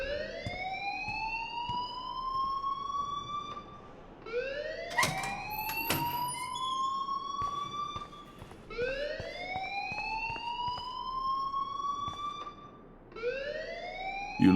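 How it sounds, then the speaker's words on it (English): A siren-like alarm wails in repeated rising sweeps, each climbing then cutting off, looping steadily and loudly with brief clicks between cycles, in a school setting in the Life is Strange video game. "please turn off that alarm since that's your job"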